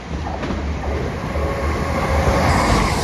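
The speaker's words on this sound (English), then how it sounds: "about to pass through is going to be a West Midlands Railway service running from Birmingham New Street to Hereford" A West Midlands Railway passenger service from Birmingham New Street to Hereford runs through Barnt Green station, a loud, steady rumble of wheels and rails with a constant drone throughout.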